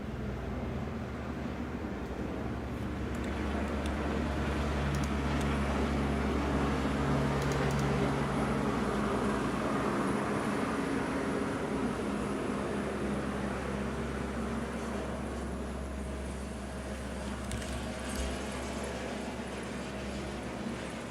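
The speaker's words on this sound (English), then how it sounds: "Oh, the helicopter's coming back." A helicopter passes overhead as a steady low rumble with a rhythmic rotor throb, filling the whole stretch at a moderate, fairly constant level and swelling slightly near the middle, with no talking.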